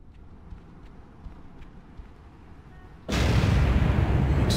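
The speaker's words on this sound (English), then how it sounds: "Explosion. Better check it out." A sudden explosion in a Spider-Man 2 video game cutscene bursts in after a quiet stretch, a loud, sustained roaring blast that fills the sound close up and keeps rumbling to the end.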